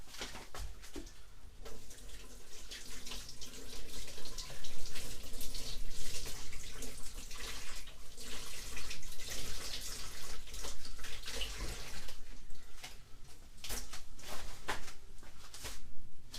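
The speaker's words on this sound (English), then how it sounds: "So I'm just going to wash that now" Running tap water pours steadily over vegetables being washed at a sink for soup, with splashing and shifting flow as the pieces are handled; no talk.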